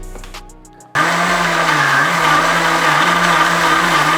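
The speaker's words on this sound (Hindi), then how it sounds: "और इसको अब हम दोबारा से ग्राइंड करेंगे।" An electric mixer grinder starts up with a sudden whine and grinds a sticky cardamom laddu sweet mixture, running loud, steady and close with a droning motor hum and no talking.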